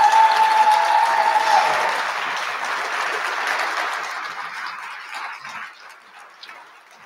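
An audience at a school district board meeting applauds students and speakers, a broad wash of clapping that starts full and slowly thins and fades over several seconds.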